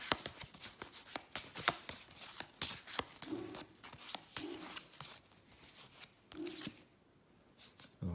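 A deck of playing cards for a card game is shuffled by hand close up, with quick riffling bursts and soft slaps in an uneven rhythm and brief pauses between passes.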